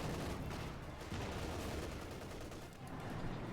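Tank guns fire at a Panzer 4 in Company of Heroes 2, a rapid, continuous clatter of shots and blasts that fills the background at a low, distant level with no voices over it.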